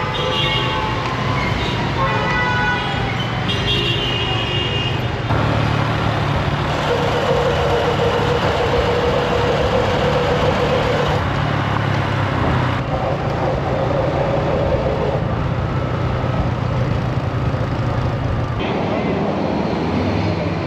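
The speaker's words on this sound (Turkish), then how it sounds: "Bakar mısınız şu trafiğe?" Loud, constant roar of busy city street traffic in Egypt with minibuses, engines droning and rumbling close by, a tonal whine drifting at the start, and voices mixed into the din.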